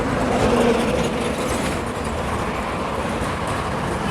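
Dense, steady roar of a noisy city street near the Maidan in Kolkata, with rumbling traffic and a continuous broadband wash of vehicles close by and no clear talk.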